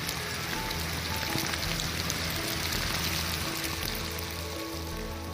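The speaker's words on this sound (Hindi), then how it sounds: "संडे को शिमला में जोरदार बारिश हुई और ओले भी पड़े" Heavy rain mixed with hail pours down in Shimla, a dense, steady hiss of drops pattering on surfaces, loud and unbroken throughout with no voices.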